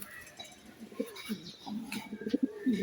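Faint, low coos of Budapest pigeons repeat irregularly in a quiet setting, with a few soft chirps between them.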